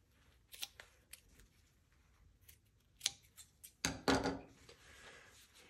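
Scissors snip through denim, trimming bulk from a skirt seam allowance, with a few faint close cuts building to louder crunching snips near the end.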